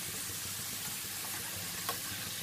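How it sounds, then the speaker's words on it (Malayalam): Potato pieces fry crisp in hot oil as they are stirred, a soft, steady hiss of sizzling with faint bubbling and a brief scrape of the stirring utensil. "നമ്മൾ ഇളക്കുമ്പോൾ കണ്ടു ശബ്ദം വരുന്നത്"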